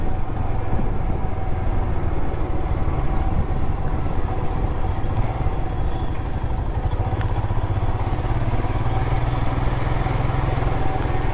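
A motorbike travelling along a road on a long-distance ride, its engine droning steadily with constant rumble and wind noise, close and loud throughout without pauses or talking.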